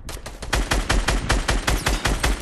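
Rapid sniper rifle gunfire in the video game Fortnite, loud sharp shots cracking in a fast, steady rhythm through the whole stretch with no talk.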